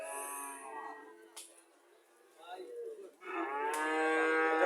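A Haryana breed cow moos twice, a drawn-out low call, then a pause and a second louder call that carries to the end, fairly close in a quiet barn.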